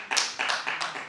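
A short run of sharp claps, five or six quick ones in an uneven rhythm, close and fairly loud.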